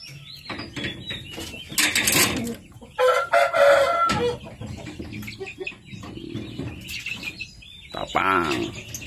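Japanese Shamo gamecocks crow and cluck nearby in several loud, ragged bursts separated by short pauses, one hoarse crow rising near the middle.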